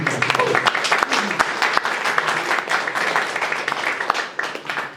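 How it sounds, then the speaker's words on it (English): An audience at the CEES Guatemala 2025 conference claps for Stephan Kinsella, a dense, lively spatter of hands close by that holds steady for several seconds with faint voices mixed in. "give a big clap to Stephan"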